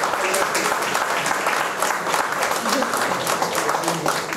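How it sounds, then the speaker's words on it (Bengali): A crowd claps steadily at a Durga Puja award ceremony, sustained dense applause heard close, with a voice talking over it throughout. "সবাই হাততালি, সবাই হাততালি,"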